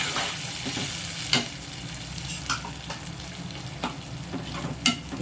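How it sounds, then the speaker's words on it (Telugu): Onions and avakaya mango pickle frying in a pan, a steady close sizzle with occasional sharp clinks and scrapes of stirring, no voices. "ఆవకాయ కూడా 1 నిమిషం అట్లా ఫ్రై అవ్వాలన్నమాట"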